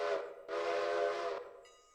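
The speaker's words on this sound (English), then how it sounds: "2 whistles to get going." Two blasts of a steam locomotive whistle in the Railroader train game: a short toot, then a longer sustained one, fairly close and clear, alone with no talk.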